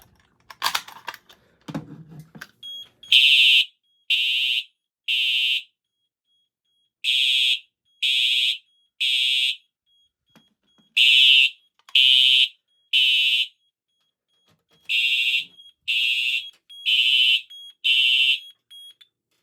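An Autocall A050 addressable fire alarm panel in alarm after a pull station test, loud piercing electronic beeps in groups of three and four with short gaps, following brief handling clatter.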